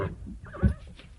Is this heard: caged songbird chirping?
no